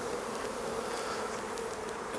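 Honeybees hum steadily around an opened hive being inspected, a dense continuous buzz close by with no voices.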